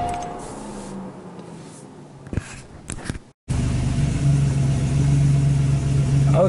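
After a few faint clicks and a brief silence, the newly rebuilt engine of a 1986 Buick Grand National starts and settles into a steady, close idle with a low humming drone.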